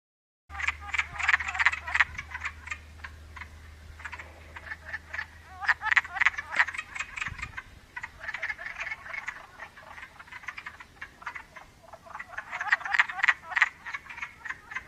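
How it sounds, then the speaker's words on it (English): Male wood frogs call from a shallow, leaf-filled pond in short duck-like quacking bursts, several overlapping clusters repeating over a steady low hum, fairly close and moderately loud. "When the male frogs enter the pond, they begin quacking."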